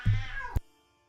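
A house cat gives a single short, close meow indoors, followed by near silence.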